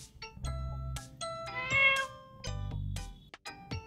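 A cat meows several times in a row, short tonal calls mixed with soft chimes and light tinkling in the background, fairly quiet overall and with no talking.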